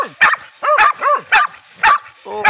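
Hunting dogs bark in repeated sharp bursts during a night armadillo hunt in rural Brazil, about five loud, close yelps and barks spaced roughly half a second apart, with yipping whimpers mixed in.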